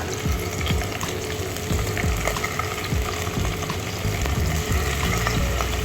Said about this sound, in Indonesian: kita harus mendengar suaranya dia sizzling